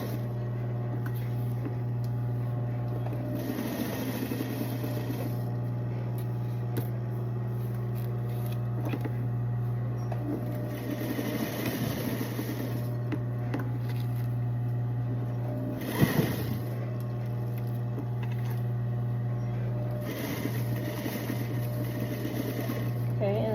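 A sewing machine stitches fabric flat during a clothing redesign, running in several bursts of mechanical whirring with pauses between, while a person talks over it.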